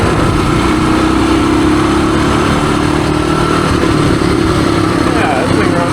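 A 1978 Suzuki DR370 motorcycle engine pulls steadily under acceleration, a loud continuous droning buzz with wind rush, while a voice talks over it.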